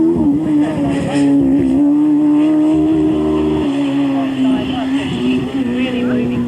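A race car at a 1998 Australian hillclimb at Collingrove, SA, pulls hard, its loud, steady engine note holding a strong drone, with a brief shift as it is snapped into second gear. Commentary runs underneath.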